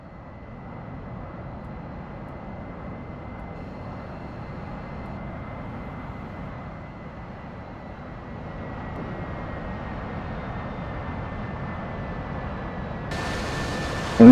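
Continuous jet aircraft engine drone from the F/A-18C in the DCS flight simulator, a steady broadband roar with a faint whine that swells slightly toward the end.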